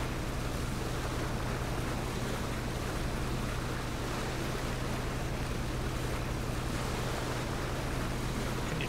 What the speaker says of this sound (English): Got the boat up to 90.